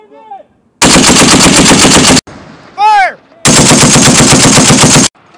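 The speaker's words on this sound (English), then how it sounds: "Keep firing!" Machine gun firing during military weapons training: two long, loud, close bursts of rapid automatic fire, separated by a short gap with a brief ricochet-like whine and faint talk.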